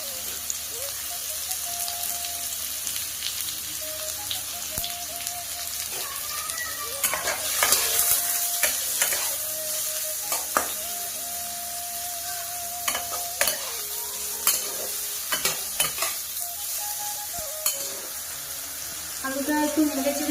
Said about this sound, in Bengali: প্রথমে ভেজে নিচ্ছি আলু। নুন হলুদ দিয়েই ভেজে নেব।